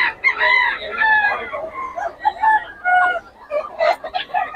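Roosters crow loudly and repeatedly at a chicken sale, overlapping calls filling the clip with some clucking and a voice faintly beneath.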